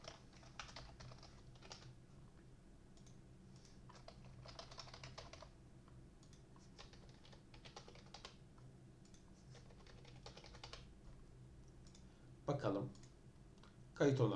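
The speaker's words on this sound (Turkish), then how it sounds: "Şimdi tekrardan yazıyorum." Rapid bursts of typing on a computer keyboard, quiet clicks in uneven runs with short pauses between, close by in a quiet room, with a brief louder knock near the end.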